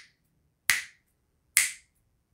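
Two crisp finger snaps about a second apart, sharp and close, each decaying quickly into silence.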